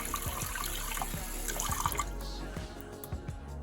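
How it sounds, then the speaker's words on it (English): Running water splashes and drips continuously as hands are washed under a tap, with scattered droplets and small splashes at moderate level and no voices. "when I wash my hands, what the water is going to look like"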